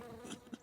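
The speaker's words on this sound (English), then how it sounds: "Those bees are hibernating." Bees buzzing, a faint continuous drone with a slight swell partway through, heard briefly and alone.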